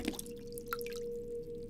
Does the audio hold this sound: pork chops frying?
no